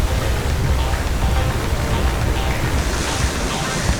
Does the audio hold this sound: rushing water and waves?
yes